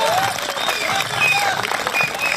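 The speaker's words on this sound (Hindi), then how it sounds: "मजा आया हो तो एक बार जोरदार तालियां बजाइए" An audience at a Kolkata Hindi comic poetry gathering breaks into loud, dense applause, a close, sustained wash of clapping with some crowd noise.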